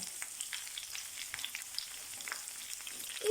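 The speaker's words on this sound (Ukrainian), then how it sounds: "жаримо до гарного золотистого кольору." Soft, crackling sizzle of diced onion frying in a pan with crackling bits, gentle and fairly quiet with occasional pops and no voices.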